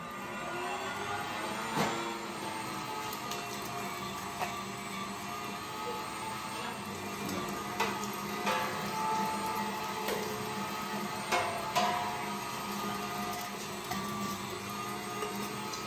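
Electric meat grinder churning venison and pork fat, a loud continuous motor whine with irregular strained surges and knocks as chunks feed through.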